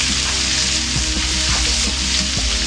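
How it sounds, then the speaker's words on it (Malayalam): Sliced onions sizzle in hot oil in a pan while being sautéed for a coconut-milk chicken curry, a continuous even crackle with faint stirring scrapes and no talking. "ആ സവാള ഇട്ട് വഴട്ടാം"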